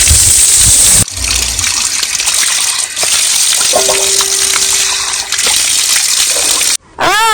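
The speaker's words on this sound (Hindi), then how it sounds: "हमारे उत्तराखंड में धारों का ठंडा पानी है, ये देखो।" Cold water pours from a mountain spring spout in Uttarakhand, a loud, close, steady gushing rush with brief interruptions and a couple of small knocks near the end.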